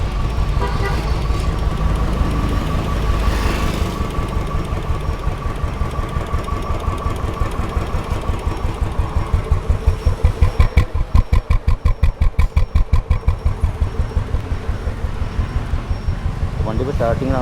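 Close by, a restored Royal Enfield Bullet 350 BS3 with a stock silencer idles. A low, even thumping runs the whole time and turns plainer and more regular midway, with a brief tonal honk-like sound and faint voices early on.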